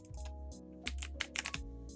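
Rapid typing on a computer keyboard with irregular bursts of crisp key clicks, close and fairly quiet, with brief pauses between clusters of strokes.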